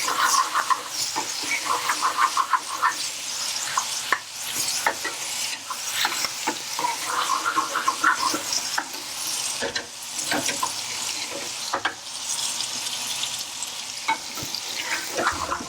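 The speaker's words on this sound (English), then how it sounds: "now I'm going to put in the ginger and garlic paste" Ginger and garlic paste fries in a curry pan for a chicken bhuna, crackling loudly and steadily while a spoon scrapes and stirs in irregular strokes. A splash of running water can also be heard.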